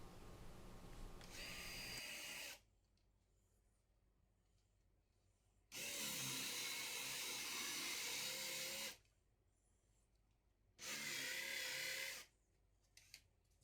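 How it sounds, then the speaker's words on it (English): Portable drill press boring holes into a wooden drawer bottom: three separate bursts of loud, steady whining and grinding, each a few seconds long, with quiet pauses between them. "I do have the portable drill press that I'm using, and it does the job."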